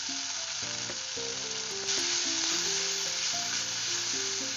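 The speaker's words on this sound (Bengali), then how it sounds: "একটু নাড়াচাড়ার পর যে চাংসগুলো সেগুলো মিশিয়ে দিচ্ছি।" Soya chunks sizzle in a pan with cumin, coriander, salt and turmeric as they are stirred, a steady frying hiss under prominent background music.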